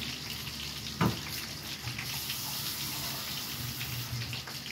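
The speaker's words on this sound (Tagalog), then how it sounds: "Lagyan natin ng tubig ito." Water poured into a pan of simmering spaghetti sauce on the stove, a soft continuous sizzling wash with one brief splash near the start, quiet and without talk.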